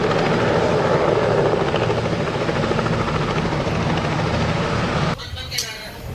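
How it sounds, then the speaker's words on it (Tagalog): Helicopter rotor and engine thrum loudly and continuously, close and steady, with people talking over it; the noise cuts off abruptly near the end, leaving quieter voices. "Pero ito, sasakay sila ng helicopter."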